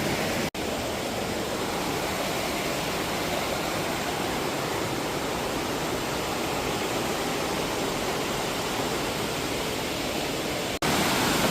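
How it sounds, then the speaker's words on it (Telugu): A waterfall near a temple in Kerala roars as a steady, dense broadband rush that stays loud and unbroken throughout, with no voices over it. "జలపాతం."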